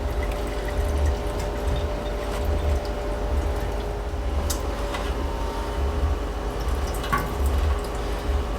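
Running water splashes steadily from a tap over pickles in a sink, a continuous close hiss with occasional clinks and drips.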